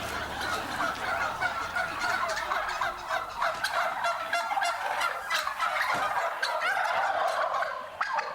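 Several turkeys gobble loudly and continuously at close range, their rapid, overlapping bursts of warbling calls filling the whole stretch with dense, rhythmic chatter.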